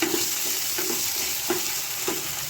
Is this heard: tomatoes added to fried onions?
yes